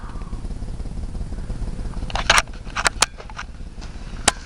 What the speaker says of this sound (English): 5 horsepower Briggs & Stratton engine on it.